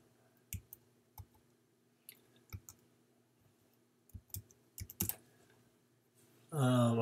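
Computer mouse clicks while filling out an online registration form for a pickleball tournament: a series of small, crisp, close clicks spaced irregularly, a few in quick pairs, ending under a burst of louder sound.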